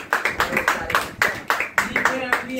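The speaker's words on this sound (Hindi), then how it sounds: "ताली बजा दीजिए" A classroom of students claps for a classmate during a Class 11 inorganic chemistry lecture on the periodic table, giving brisk rhythmic applause of many hands at close range for a couple of seconds.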